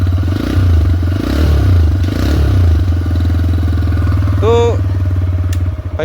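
A TVS Raider 125 motorcycle engine runs in power mode with a loud, close, throbbing low exhaust note that swells and eases in short revs, with a brief whine and faint clatter near the end.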